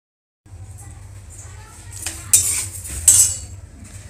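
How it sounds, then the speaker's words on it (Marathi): Flax seeds roasting in a pan over a low flame, stirred with a metal spoon that scrapes and clinks against the pan in several sharp knocks over a low background hum. "बारीक गॅसवर असे जवस छानपैकी भाजून घ्यायचे, हलवत राहायचं सारखं"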